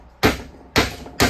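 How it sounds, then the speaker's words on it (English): A hammer drives nails into wood for a bluebird house, three sharp, close, solid strikes at an uneven pace, each with a short ringing decay. "you can just start these nails off first, placing one nail at that spot"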